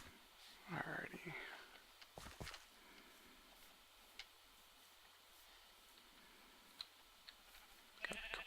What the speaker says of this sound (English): Got a couple sheep, that's good.